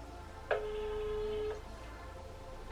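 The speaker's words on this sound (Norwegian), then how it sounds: "Ok, da ringer jeg Sadie" A phone call is dialed: a short tone burst leads straight into one steady, loud electronic tone held for about a second, then it cuts off and leaves quiet background noise.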